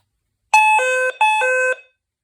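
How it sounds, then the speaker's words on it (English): A Midland ER102 weather radio's loud alert test tone blares in two long bursts, each made of stepped, buzzy pitches, with a short gap between them. "Wow, that was loud. I guess there's an alert test for it."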